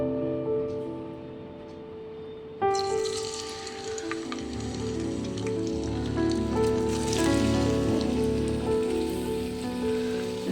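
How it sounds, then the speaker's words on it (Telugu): Potatoes, onions and green chillies frying in oil in a pan give a dense, rain-like sizzle that rises sharply a few seconds in and stays loud and steady, under background music. "ఇంకా బంగాళదుంపలు, ఉల్లిపాయలు, పచ్చిమిర్చి మొత్తం ఫ్రై చేసుకున్నాను"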